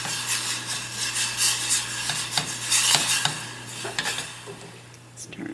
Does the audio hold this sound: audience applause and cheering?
no